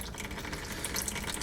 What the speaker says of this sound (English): You can hear the oil dripping